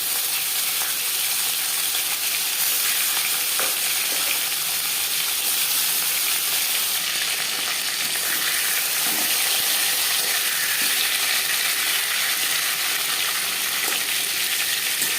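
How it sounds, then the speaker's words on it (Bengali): Shol fish pieces and a fish head, rubbed with salt and turmeric, fry in hot mustard oil, giving a steady, close, continuous sizzle with no talking. "4-5 চামচ সরষের তেল গরম করে নেওয়ার পর দিয়ে দিলাম লবণ হলুদ মেখে রাখা মাছের মাথা"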